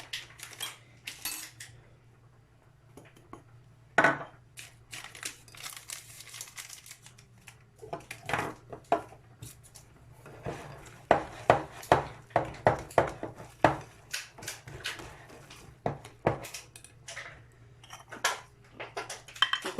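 Date-powder cake batter being stirred in a bowl: repeated clinking scrapes of a utensil against the dish, irregular and close, with quiet gaps between bursts of mixing.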